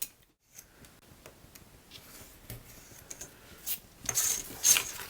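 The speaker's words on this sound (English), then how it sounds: "I'm going to trim down this edge here." Card edge being trimmed with a paper trimmer or scissors for a handmade card: soft scraping and clicking cuts, quiet at first, rising to a brighter, louder slicing burst near the end.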